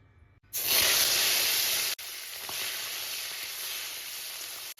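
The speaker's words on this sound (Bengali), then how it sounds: "এইবার আমি চিংড়ি মাছগুলোকে ভেজে নেব হলুদ এবং লবণ দিয়ে" Prawns hit hot refined oil seasoned with turmeric and salt, a sudden loud, close sizzle that bursts in after a quiet start, then settles into a steady frying hiss, with no one talking.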